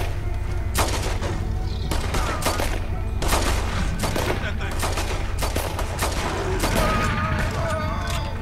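Rapid bursts of gunfire in the Red Dead Redemption 2 video game, with loud repeated shots and booming cracks in clusters over a steady low rumble.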